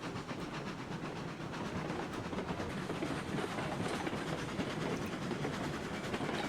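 A train in RailRoads Online hauls its load up a grade on a coal mine line, giving a steady, dense rumble with rhythmic clatter and faint hiss that holds at a constant loudness throughout.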